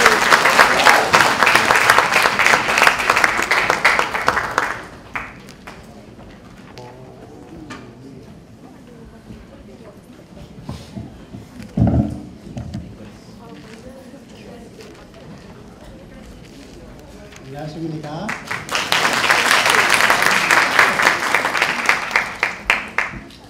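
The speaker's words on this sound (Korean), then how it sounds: "큰 박수 부탁드립니다" A speech contest audience claps loudly for an entrant from Zimbabwe, a dense burst of applause for about five seconds, then quiet talk, then a second strong round of clapping near the end.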